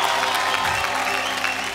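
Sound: award show audience applause

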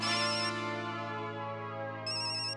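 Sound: telephone ringing

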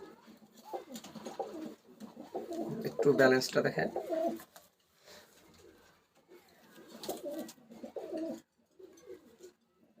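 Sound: cooing of imported Teddy pigeons in a loft

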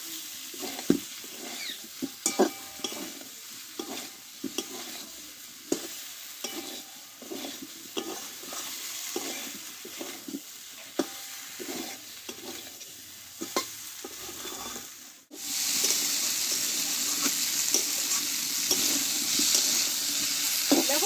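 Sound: potatoes and cauliflower frying with spices

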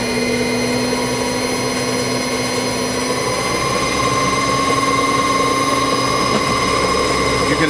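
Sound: StarPower 10 kW generator running

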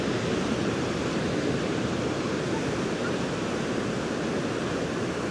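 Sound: ocean waves on Venice Beach, California

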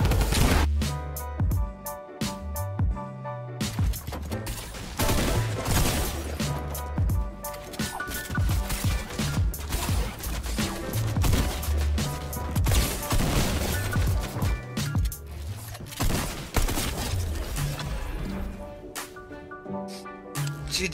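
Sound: gunfire in a video game shooter

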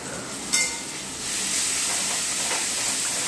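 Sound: sautéing masala in a pan before adding meat

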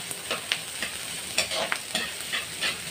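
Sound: onion and tomato sautéing in pan

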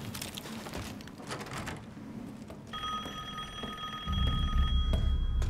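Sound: rotary telephone ringing in video game Resident Evil Village

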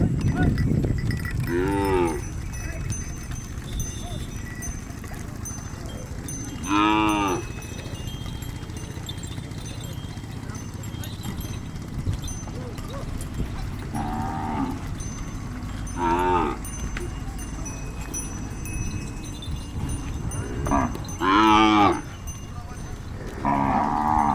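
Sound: desi cows and calves mooing on a village dairy farm

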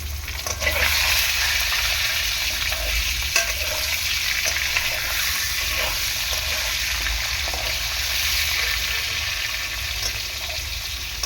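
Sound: potatoes frying in a pan

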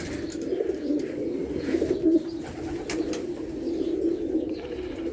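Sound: pigeons cooing

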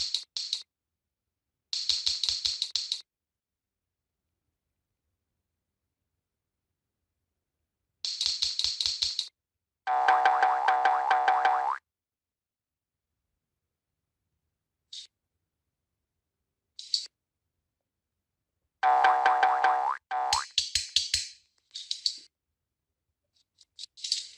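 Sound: fidget toy button sounds in the video game Fidget Toys 3D

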